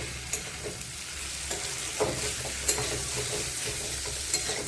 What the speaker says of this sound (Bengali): এখন একটু সময় নাড়াচাড়া দিয়ে নেবো